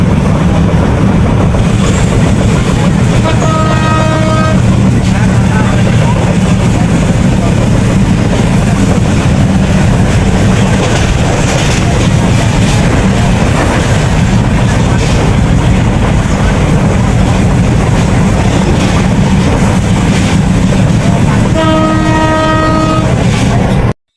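Onboard a moving train, the loud, continuous rumble and rattle of the carriage runs throughout, with the horn sounding twice, once early and again near the end.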